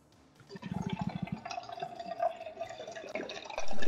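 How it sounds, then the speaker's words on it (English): A drink being poured into a glass, a close trickling and gurgling stream of liquid with a bubbly start that rises in pitch as the vessel fills, heard alone. "I was pouring a drink"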